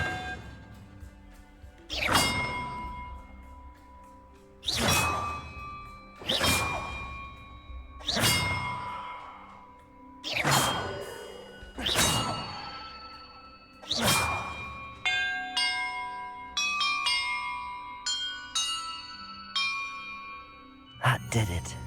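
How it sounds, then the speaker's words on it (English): Bells ring one after another in Hogwarts Legacy, seven loud resonant clangs spaced about two seconds apart, each decaying slowly, followed by a faster cascade of lighter chiming tones. "Perhaps the map contains clues about the order I'm supposed to ring the bells in."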